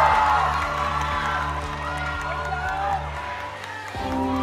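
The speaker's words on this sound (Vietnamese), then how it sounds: "Quý vị thấy đó, những tràng pháo tay vừa rồi" The audience at a beauty pageant's final night cheers and whoops loudly, the sound fading a little before rising again, with a voice audible through it.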